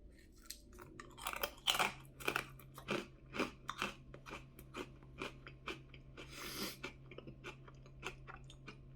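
Close, crisp crunches as an ice cream cone is bitten and chewed, in a steady irregular series of sharp cracks and chomps with no talking.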